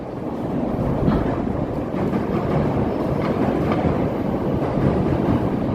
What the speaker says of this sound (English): Here comes the L coming by.